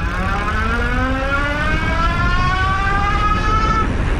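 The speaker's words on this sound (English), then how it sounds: "You can definitely hear the motor kind of doing the whine thing." A planetary geared hub motor on a Blix Vika+ Flex e-bike whines steadily with a rising pitch as it speeds up, over rumbling road and wind noise.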